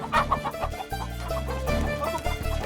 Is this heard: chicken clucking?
yes